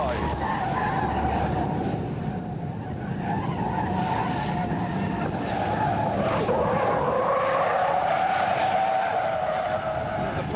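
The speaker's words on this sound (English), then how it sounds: "Apparently, if you really stick it into a corner, you can make it power slide." Lorry being driven hard and power sliding through a corner, a loud continuous engine roar with a squealing, scrubbing tyre tone rising over it for about ten seconds.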